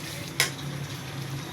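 Spices with cumin and coriander powder fry in a pan with a soft, steady sizzle, broken by one brief scraping stir.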